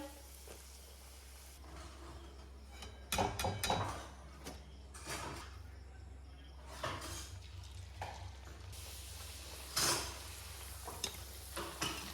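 Oil sizzles steadily under a low hum as puffed flatbreads fry, broken by clattering of utensils and a pan being handled, with a few louder scrapes.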